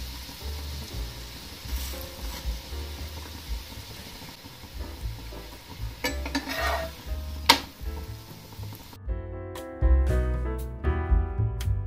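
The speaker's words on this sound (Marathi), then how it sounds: "दुसऱ्या साइडनी पण छान असा पराठा भाजून घ्यायचा दोन्ही पण साइडनी" Beetroot paratha frying in butter on a hot pan, with a steady sizzle, stirring and a few sharp clinks of utensils, and a quieter, crisper stretch near the end.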